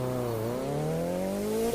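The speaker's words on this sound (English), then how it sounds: "I think the engine is a bit loud here." A car engine revs in The Crew 2 racing game, a steady rising drone that holds loud and close for under two seconds, climbing gradually in pitch with no talk over it.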